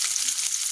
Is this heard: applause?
no